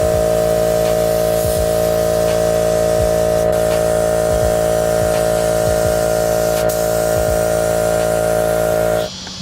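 A spray gun lays paint on a Turbo Thunderbird outdoors, giving a loud, steady close hiss over a constant compressor drone with regular low pulses, cutting off abruptly just before the end.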